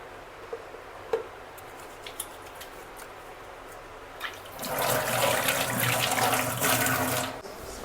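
Tap water runs into a sink as hands are washed at home, starting with small clicks and handling sounds before a steady, close rush of flowing water fills the second half and stops near the end.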